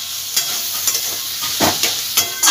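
Small onions sizzle loudly in a pan over high heat, a bright continuous frying hiss broken by several stirring scrapes and spatters, close and with no one talking.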